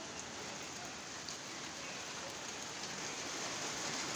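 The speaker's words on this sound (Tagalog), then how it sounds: "Kunti-kunti pa yung ulan guys." Steady light rain patters continuously on surfaces at an outdoor seaside spot while food is being cooked, a soft even hiss with no talk.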